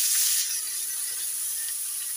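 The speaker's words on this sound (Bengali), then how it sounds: "চিংড়ি মাছগুলো হালকা করে ভেজে নেব।" Salted, turmeric-coated prawns lightly frying in hot mustard oil in a wok give off a steady, bright sizzle with a louder burst at the start, then an even hiss throughout.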